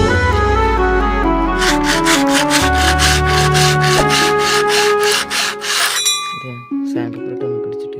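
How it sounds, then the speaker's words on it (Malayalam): Wood for a spoiler shelf is scraped by hand in a run of rhythmic rasping strokes, heard under steady background music. "അപ്പോൾ നമുക്ക് ഫസ്റ്റ് ഇത് ചുരണ്ടി എടുത്തിട്ട് വരാം"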